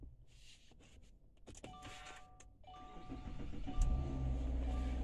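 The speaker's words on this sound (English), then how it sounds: "Let's go ahead and start the car." A car engine cranks and catches on an old battery being restored with a Noco Genius 5 charger, building from quiet clicks and whirring to a steady low idle rumble near the end.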